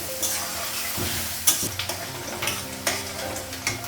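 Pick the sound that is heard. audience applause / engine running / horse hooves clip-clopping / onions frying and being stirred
onions frying and being stirred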